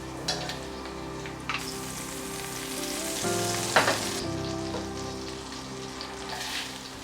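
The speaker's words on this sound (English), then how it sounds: "Into the same pan, add more butter." Butter sizzles in a hot pan just used for chicken, a crackling hiss with scattered pops and a louder burst midway, set against a steady background hum.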